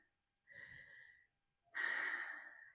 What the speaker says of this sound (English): Slow the breath. Suck the air in.